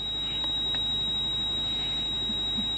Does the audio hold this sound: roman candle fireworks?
no